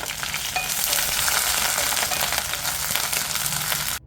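Green chillies and curry leaves frying in hot oil over a low flame, a loud, dense, continuous sizzle with faint stirring, close and steady until it cuts off abruptly at the end.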